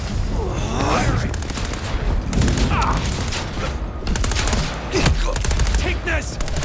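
Gunfire from Vampire the Masquerade Bloodlines 2 gameplay: bursts of shots and mechanical clatter repeat across the clip, loud and close, mixed with shouted character voices and effects.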